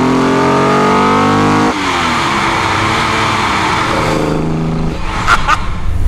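A Holden Torana A9X hatchback muscle car engine revs hard and loud up close, holding a high steady note before dropping through gear changes and settling into a rough, lumpy idle.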